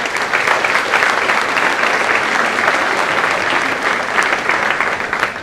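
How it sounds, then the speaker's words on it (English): A large crowd at a university general assembly breaks into loud, continuous applause. The clapping stays thick and steady throughout, with no talk breaking through. "Give a round of applause then."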